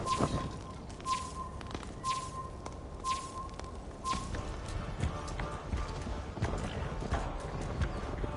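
Horse hooves gallop in a steady clip-clop rhythm through Assassin's Creed Valhalla, close and continuous over low rumbling game ambience, with faint whooshing layered in.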